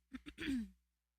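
A single short cough or throat-clearing into a microphone, close and fairly soft, made of a few quick bursts followed by silence.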